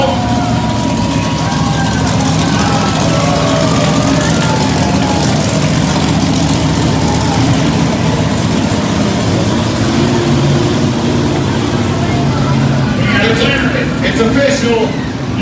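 A drag racing car engine on a strip in Raleigh, North Carolina, roars loud and sustained as the throttle is pulled, with an announcer talking over the constant engine noise and crowd.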